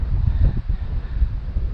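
Strong headwind buffets the microphone on a hilly endurance ride, with low, gusty roaring that swells and dips in uneven bursts, loud and close.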